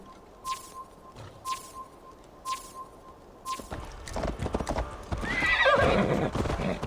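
A horse in Assassin's Creed Valhalla gives a few sharp hoof clops, then a busy clatter of hooves rises into a loud whinnying neigh, with no talk.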